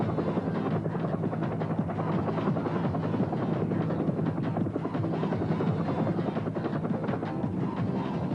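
A Hughes Defender military helicopter flies steadily nearby, its rotor thudding in a continuous loud drone throughout with no talking.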